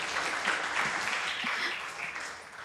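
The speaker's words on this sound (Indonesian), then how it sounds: "kita beri tepuk tangan dulu buat Buta-Buta" A church congregation applauds after a prayer at a church gathering, giving a steady wash of clapping from many hands that fades slightly toward the end.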